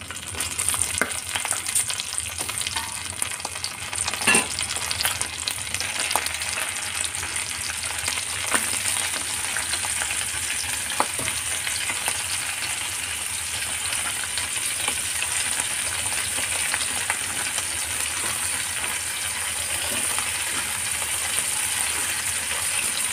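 Shrimp fry in butter over a low flame, a steady soft sizzle running throughout with occasional faint stirring clicks and no voices.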